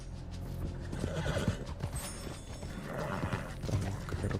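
A horse in Red Dead Redemption 2 whinnies while its hooves clip-clop steadily, the game sounds soft and the hoof steps continuing around the neigh.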